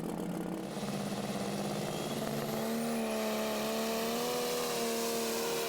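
A freshly painted Ford New Holland tractor pulls a sled at a tractor pull, its engine droning loud and steady, then climbing in pitch as it strains down the dirt track, with no talk.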